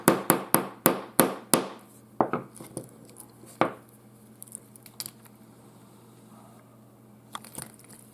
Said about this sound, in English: Use the plastic head of the hammer when putting the pins back into place.